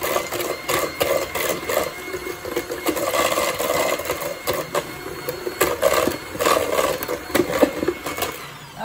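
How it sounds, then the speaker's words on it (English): Buttermilk cornbread batter is stirred briskly until smooth, a quick rhythmic scraping and sloshing repeating close by with no talk. "we wanna mix it until the mixture is smooth"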